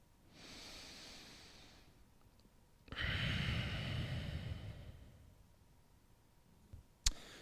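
Slow, deep breaths during a night-time yoga routine, a long soft inhale followed by a fuller, louder exhale, close and alone, with a faint click near the end.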